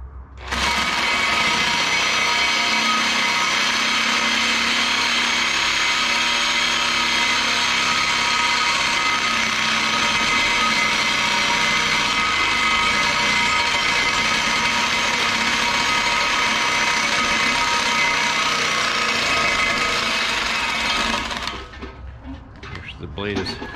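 A power saw with a worn, pinching blade that has nearly lost its kerf cuts in one loud, continuous stretch of roughly twenty seconds, then stops abruptly, leaving quieter shuffling.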